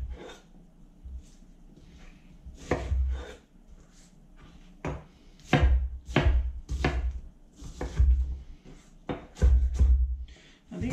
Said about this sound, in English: we're going to chop up some onions